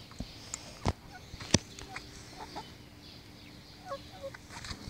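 Pet chickens beside their backyard coop make scattered soft clucks and short calls, with a few sharp nearby taps, against faint outdoor background.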